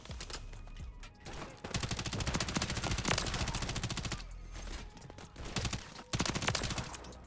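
Rapid automatic gunfire from a BAL 27 rifle in Modern Warfare 3, sustained bursts with short gaps, loud and close, mixed with game sound effects.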